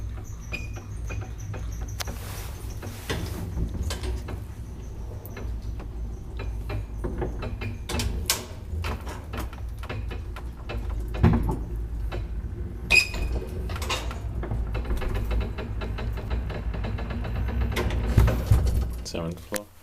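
A 1951 Kone traction elevator runs with a low steady mechanical rumble, dotted with clicks, clacks and rattling relay or door-mechanism sounds throughout.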